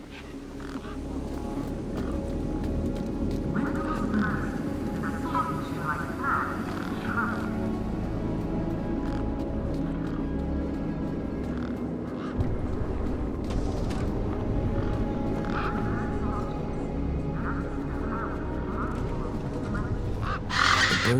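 Harsh crow-like bird squawks and caws from the video game Beyond a Steel Sky repeat over a busy background of game ambience and rumble, coming in clustered bursts across the stretch.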